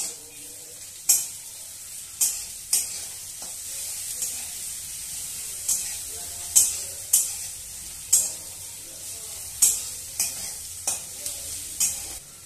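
Grated garlic fries in a pan for chickpea curry (ghugni), a steady close sizzle broken by a dozen sharp scraping stirs at irregular intervals, with no voices.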